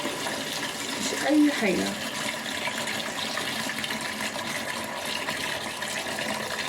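Water runs steadily from a tap while taro is washed in a kitchen, a continuous close splashing rush with a brief louder gush near the start, and someone speaks over it.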